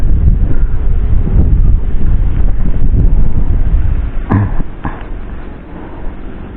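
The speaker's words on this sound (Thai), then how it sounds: "ช่วงนี้ลมแรงนะ" Strong wind buffets the microphone outdoors beside the water while fishing, a steady loud low roar throughout with a couple of brief gust bursts near the end.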